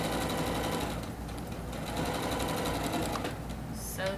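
A sewing machine stitches a quilt block seam with a fast, steady mechanical whir and needle chatter throughout, loud and close, with a little speech near it.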